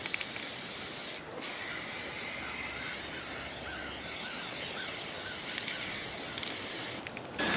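Aerosol spray paint hissing as flat black coats a steel workbench, a steady close spray with two brief pauses, no talking.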